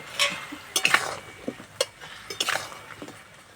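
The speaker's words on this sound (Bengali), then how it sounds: "এবার ভেজে রাখা মিষ্টিগুলো দিয়ে দেবো।" Fried semolina sweets going into melted sugar syrup with cardamom in a pan, giving soft clinks, scrapes and light sizzling in scattered bursts, close and fairly quiet.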